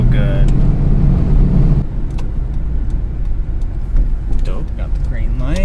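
An abandoned luxury coupe with a suspect transmission drives along, its engine droning steadily from inside the cabin and shifting pitch around a gear change, while a voice talks over it.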